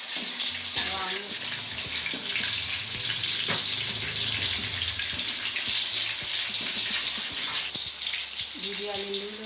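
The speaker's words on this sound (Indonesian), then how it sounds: "Didiamin dulu biar matang bawang merahnya ya guys." Shallots fry in a pan of oil with a steady, broadband sizzle and crackle throughout, loud and close, with a faint voice speaking in the background.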